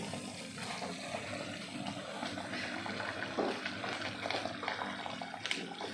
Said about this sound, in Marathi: अशेंच बुडबुडे येवपा जाय